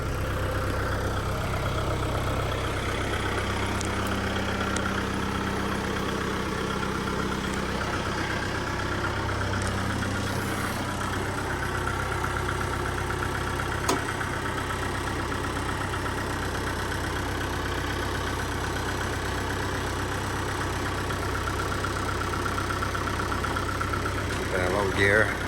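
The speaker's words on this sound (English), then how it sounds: "Just see how much effort it takes for the tractor to push this thing." A tractor engine in low gear works steadily while pushing a tiny house, a continuous mid-loud rumbling drone throughout with low mechanical hum.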